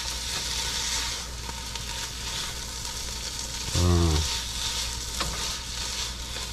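Sweet Italian sausage frying in a pan, a steady close sizzle with a brief stirring scrape partway through.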